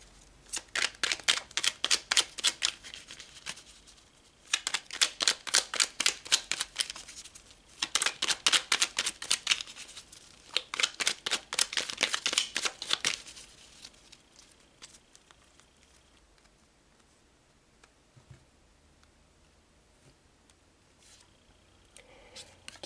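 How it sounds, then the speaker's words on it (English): Tarot cards being shuffled in several rapid riffle bursts of crisp, close fluttering flicks, each lasting a couple of seconds, followed by quieter card handling and soft movements. "let's pull more cards."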